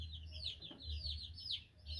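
A hen handled at a rooster breeding ranch gives soft repeated clucks over a steady low hum, with higher chirping calls woven through the whole stretch.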